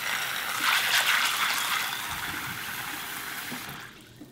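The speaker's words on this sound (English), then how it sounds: "We need to soak this in cold water overnight." Cold water pours steadily into a large bowl of dried soybeans set to soak, a close, even gush that tapers off near the end.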